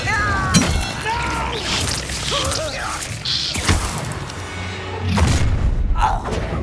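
An Incendio fire spell cast in Hogwarts Legacy bursts out among crashing, thudding combat effects and whooshes, loud and close, with a short impact flare midway and a voice briefly speaking over the chaos.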